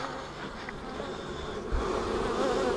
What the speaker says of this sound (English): That way maybe I can keep the bees out of them.